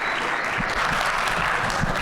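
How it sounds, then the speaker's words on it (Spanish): An audience at a master class claps, a steady burst of dense, fairly close applause filling the whole moment with no speech. "Les pido un aplauso para Che"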